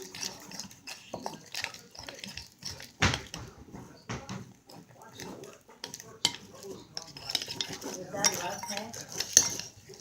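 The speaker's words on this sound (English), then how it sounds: "And then just mix it together good. Then it'll get hard to stir" A utensil stirs a thick, wet slime mixture in a bowl, making repeated clinks and sticky squelches against the sides, close and soft, while a voice talks over parts of it.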